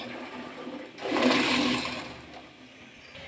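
Water drains off boiled fresh pigeon peas into a container, a brief rushing pour that swells and fades over a few seconds, close and without talk.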